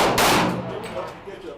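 A single loud, close gunshot at a shooting range, its sharp report followed by a decaying echo, with faint background voices.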